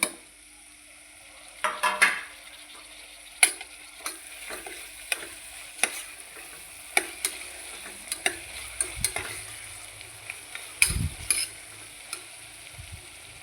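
Chopped tomato frying in a pan for a spicy dal and leafy vegetable dish, a soft steady sizzle broken by repeated sharp clinks and scrapes of a spoon against the pan.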